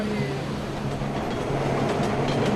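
A New York subway train runs with a steady rumble and rattling clatter, loud and continuous throughout, with faint tonal squeals from the wheels.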